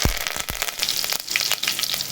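Fennel seeds splutter in hot oil, crackling and sizzling steadily with small popping bursts, close and continuous with no talking.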